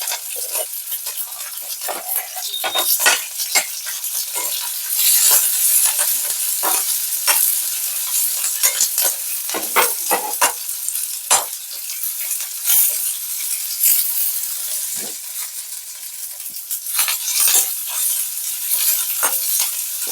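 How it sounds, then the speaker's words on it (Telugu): Curry leaves, green chilies and onions frying in a hot pan, a loud continuous sizzle broken by frequent sharp stirring scrapes and crackles throughout, no voices. "ఇదిగో కరివేపాకు వేస్తున్నా తర్వాత పచ్చిమిర్చి ఉల్లిపాయలు ఇవి బాగా ఎగలివ్వాలి"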